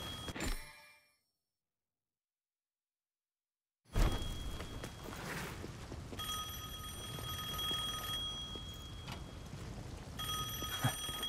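A telephone rings in Devil May Cry 5, its repeated tonal rings sounding over a busy game background after a brief silence.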